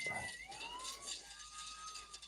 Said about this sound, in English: What's with that ambulance?